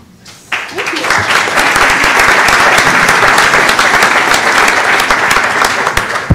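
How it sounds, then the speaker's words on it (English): Audience applause at an energy storage summit panel, starting abruptly and holding as a dense, even burst of clapping from a sizable crowd for several seconds. "thank you, everybody, for the polite applause"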